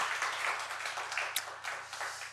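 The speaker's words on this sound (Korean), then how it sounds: "우리 다시 한번 하나님께 영광의 박수 올려드리겠습니다." A church congregation at a Friday praise service applauds, a steady wash of many hands clapping, soft and distant, with no voices.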